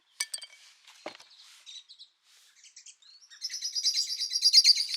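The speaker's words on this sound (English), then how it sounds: "Oh, Blackbird's arguing." Blackbirds give sharp chinking alarm calls and quick chattering notes outdoors, sparse at first and then building into a rapid, insistent burst near the end.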